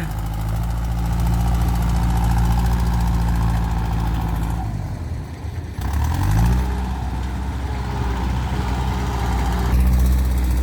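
A heavy vehicle engine rumbles loudly, dips briefly midway, then revs back up to a steady, vibrating drone.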